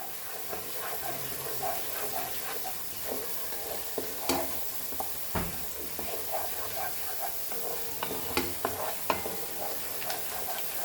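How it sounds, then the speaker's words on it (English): Ginger, garlic and bay leaves fry in butter for dal makhani, a soft continuous sizzle broken by frequent light clicks and scrapes of stirring. "Fry this all nicely, very nicely."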